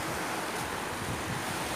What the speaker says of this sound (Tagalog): Tingnan yung dagat guys.